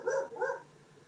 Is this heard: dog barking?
yes